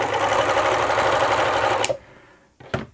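An Elna T34D serger overlocker runs slowly with stiff hand wheels, a steady close mechanical whirring and rapid needle chatter that stops abruptly, followed by a single short burst after a pause.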